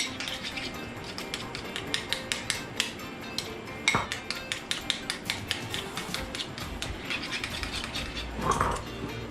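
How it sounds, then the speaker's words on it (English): Metal spoon repeatedly scraping and clinking against a bowl while pressing butter into olive oil for garlic bread, a busy run of sharp taps and scrapes, close and fairly loud. "I'm pressing the spoon against the side of the bowl here, which breaks down the butter, mixes with the olive oil"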